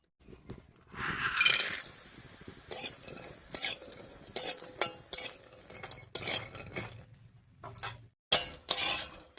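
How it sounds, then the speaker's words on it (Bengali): A spoon scrapes and clinks against a pan in irregular strokes while lentil dumplings sizzle quietly in mustard oil underneath; no talking. "ডালের বড়িটা নাড়িয়ে চাড়িয়ে বেশ লাল লাল করে ভেজে নিয়েছি"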